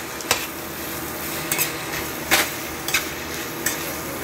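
Chicken sisig with liver frying in a pan, a steady sizzle under several sharp scrapes and clinks of a utensil stirring at irregular intervals, with no talking.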